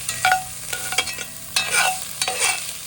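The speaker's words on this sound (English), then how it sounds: "And our peppers. I'll sweat these for like a minute maybe." Chopped onions and peppers sweat in a pot for white chicken chili, making a moderate sizzle broken by several brisk stirring scrapes and clanks across a few seconds.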